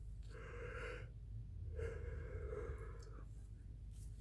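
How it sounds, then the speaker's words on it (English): A person yawns twice, close to the microphone, each one a drawn-out, breathy, voiced sound, with a pause between them and a quiet room behind. "Now, excuse me, because I'm going to yawn."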